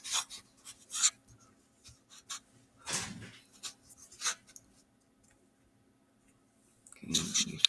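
Pencil or pen scratches across paper in short, quiet bursts of strokes, close and intermittent, with pauses between bursts while working a math problem.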